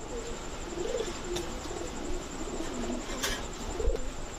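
A pair of green-necked pigeons, one male and one female, give soft, repeated coos at close range over a steady background hiss.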